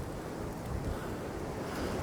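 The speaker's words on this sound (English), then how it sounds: "It is mega windy up here." Strong wind buffets the microphone up on a high point in a forest at night. A continuous, loud rumbling roar covers the whole clip without letup, and no voices are heard.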